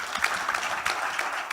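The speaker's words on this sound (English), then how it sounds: "You can give him a round of applause." Steady audience applause at a tech conference, a dense wash of clapping sustained throughout without speech.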